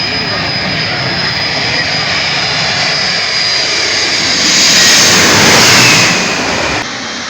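A twin-engine airplane roars loudly near Hazrat Shahjalal International Airport, a sustained jet rumble that swells to a peak before easing off.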